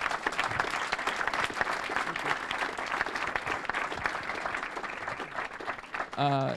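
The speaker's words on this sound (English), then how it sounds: "let's give Gaëtan a big round of applause" An audience at a business masterclass on scaling a software company gives a sustained round of applause, dense and steady throughout, with a brief louder burst near the end.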